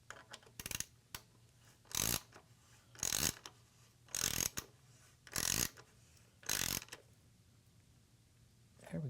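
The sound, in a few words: tightening motorcycle muffler bolts with a ratchet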